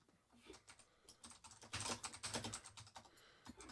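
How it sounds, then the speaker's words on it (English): Rapid typing on a computer keyboard during a live comic art session, a quick, uneven patter of light key clicks close to the microphone, growing denser and louder halfway through, with no talk. "You can probably hear me typing."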